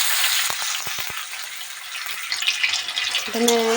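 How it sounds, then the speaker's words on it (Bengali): Chopped onion dropped into hot oil in a wok, giving a steady broad sizzle throughout with a few soft knocks early on and a brief tonal whine near the end. "তেলটা গরম হয়ে গিয়েছে এর মধ্যে আমি পেঁয়াজ কুচিটা দিয়ে দেবো"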